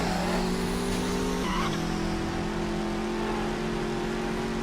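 A race car in Midnight Club 3: DUB Edition Remix drones loudly with a steady engine hum, and a tire skid squeals briefly near the start as the pitch shifts.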